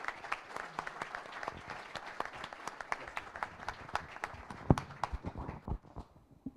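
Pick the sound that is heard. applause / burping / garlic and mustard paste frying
applause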